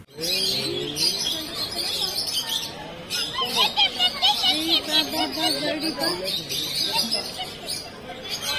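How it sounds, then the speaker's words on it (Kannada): Birds chirp at Mysore Zoo, with scattered high tweets running steadily beneath loud crowd chatter and children's voices from a busy entrance area. "ಒಳಗಡೆ ಹೋಗ್ತಾ ಇದ್ದಂಗೆ ಸ್ಟಾರ್ಟಿಂಗ್ ನಮಗೆ ನೋಡೋಕೆ ಸಿಗೋದು ಬರ್ಡ್ಸ್"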